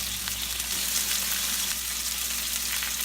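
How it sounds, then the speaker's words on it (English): Eggs fry in a hot pan beside steak for a keto meal, giving a dense, even sizzle that stays close and constant with no break. "those eggs are cooking pretty quick"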